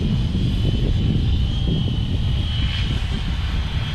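An FW450 V3 GPS multirotor drone holds a steady hover in GPS mode, its motors giving a continuous, even buzzing hum with a thin high whine, close by and unbroken, with no voices.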